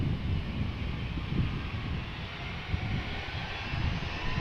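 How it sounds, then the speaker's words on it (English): A 14-year-old Airbus A321 flying for KLM departs Schiphol toward Billund on a rainy day, its engines a soft, even distant roar with broadband hiss and no voices. "This is Privilege Style A321 going to Billund, flying for KLM as KLM flight 1347."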